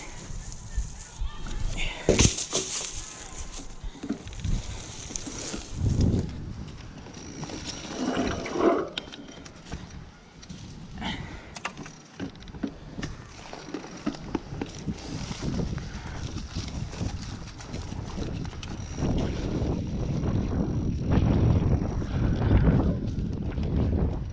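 Gusty wind buffeting the microphone in low rumbling surges, rising and falling, with a person talking at times.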